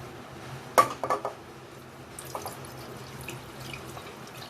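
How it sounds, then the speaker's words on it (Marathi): A milk and colostrum mixture for kharvas poured into a pressure cooker vessel sitting in water, giving a brief cluster of close splashing liquid and clinking pot sounds, then quiet kitchen handling. "सर्व मिश्रण यामध्ये कुकरच्या भांड्यामध्ये मी ओतून घेतलेलं"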